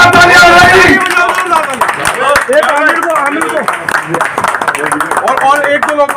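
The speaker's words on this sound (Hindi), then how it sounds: "एक बार जोरदार तालियां बजाइए" A crowd at a neighbourhood political meeting in Jafrabad claps loudly, a dense burst that quickly thins into scattered clapping while a voice talks over it through a loudspeaker.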